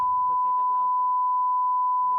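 A single sustained censor bleep tone covers a burst of speech during a behind-the-scenes pre-wedding photo shoot, loud and steady from start to finish, with muffled talking partly audible beneath it.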